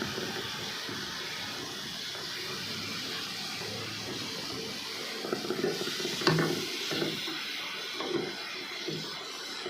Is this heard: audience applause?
no